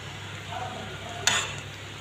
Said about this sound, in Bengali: একটু পরপর কষাতে থাকবো, যাতে তলা না ধরে এবং মশলা সব মাংসের টুকরোর সঙ্গে